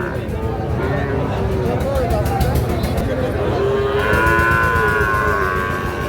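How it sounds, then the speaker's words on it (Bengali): A young Sahiwal bull calf, five to six months old, moos several times at a busy rural cattle market, its drawn-out calls rising over a background of crowd chatter and voices nearby. "এটা একটা শাহিওয়াল ষাঁড় বাছুর।"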